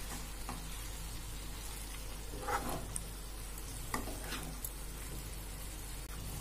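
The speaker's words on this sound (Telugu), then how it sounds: "అల్లం వెల్లుల్లి పచ్చివాసన పోయేంత వరకు ఫ్రై చేసుకుందామండి" Ginger garlic paste fries with chicken in a pan, giving a steady bed of sizzling with a few scattered scrapes and clicks from stirring, close and fairly quiet, with no talking.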